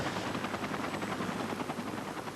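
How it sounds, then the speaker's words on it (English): A rescue helicopter roars loud and close with dense, continuous rotor chop and engine noise, steady throughout with no voices. "We loaded him onto the helicopter"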